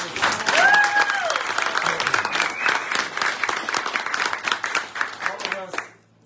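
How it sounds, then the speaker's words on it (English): An audience at a horse training competition's winner announcement gives a round of applause, dense clapping throughout that fades out at the end, with a whistle and voices mixed in. "So, round of applause to all of you guys."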